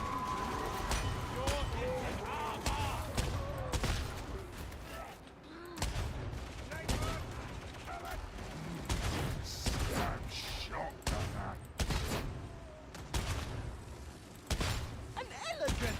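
Enemy SMG fire in the video game Warhammer Darktide comes as repeated sharp bursts and single cracks over about sixteen seconds, separated by short gaps, with game voices and other combat noise mixed underneath.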